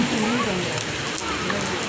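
Heavy rain falling outdoors in Dubai, a dense continuous patter and hiss on surfaces, close and loud through the whole short stretch.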